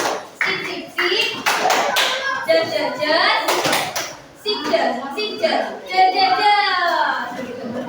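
Children in a classroom do a rhythmic appreciation clap, sharp bursts of hands in short patterned groups alternating with a teacher's voice and kids chanting along.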